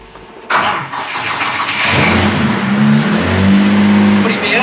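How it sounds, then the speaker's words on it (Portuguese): A sprint-category race car engine cranks and catches, then settles into a loud, steady idle with rough low rumble close by, following a brief quieter lead-in. "Procedimento de ligar o carro normal."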